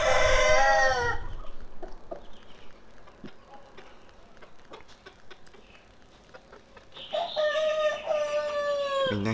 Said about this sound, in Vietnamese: Bé gà trống này của mình thì cũng là bé gà trống tơ chứ nó chưa được già dặn cho lắm.